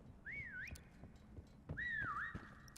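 Whistle taunt in the Prop Hunt video game: two rising and falling melodic whistles, fairly loud and clear, with soft game clicks and thumps between them.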